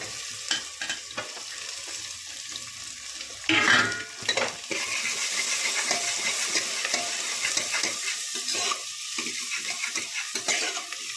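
Garlic, ginger and onion sizzle in hot oil in a pan for moth dal. A spoon stirs and scrapes against the metal now and then, and a louder clatter comes partway through. Nobody talks.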